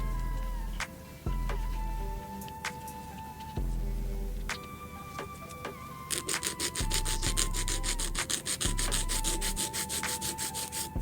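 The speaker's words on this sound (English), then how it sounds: "I'm going to file like just a little more to clean up here" A nail file rasps back and forth across an acrylic nail during a manicure, steady close rubbing strokes that quicken into a fast rhythmic scraping.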